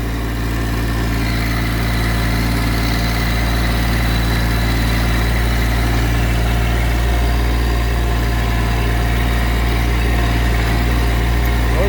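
A Massey Ferguson GC1710 sub-compact tractor regrading property with its front bucket; its engine runs as a loud, steady, close-up drone with constant vibration and no voices.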